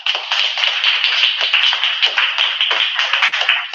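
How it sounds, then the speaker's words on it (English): An audience at a student open mic night practices finger snapping, a crowd of many quick overlapping snaps forming a dense crackling patter, close and fairly steady. "Can we practice snapping real quick?"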